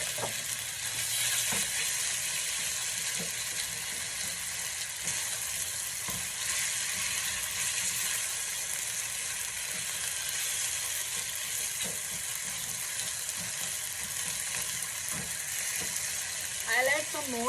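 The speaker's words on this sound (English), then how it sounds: "we'll add the marinated beef in it and we'll shallow fry it" Marinated beef shallow-fries in oil for Mongolian beef, giving a steady close hiss and sizzle throughout with occasional stirring scrapes and soft clinks.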